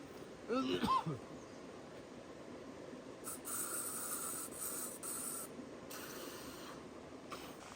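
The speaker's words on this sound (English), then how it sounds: "I just put some bug spray on." Bug spray hisses from an aerosol can outdoors by a creek, several short bursts after a brief rustle, faint and close against a quiet background.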